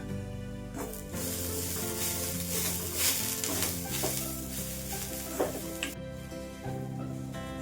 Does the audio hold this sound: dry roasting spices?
yes